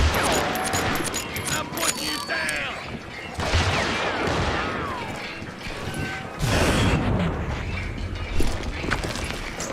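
Rapid volleys of gunfire in the Western shooter Call of Juarez Gunslinger, with sharp repeated shots and clattering mechanisms, loud and dense throughout.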